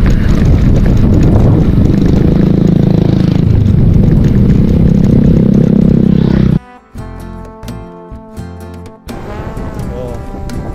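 Loud, rough wind buffets the microphone for several seconds on a road in San Pablo City, Philippines, then drops away to reveal a motor's humming engine tones.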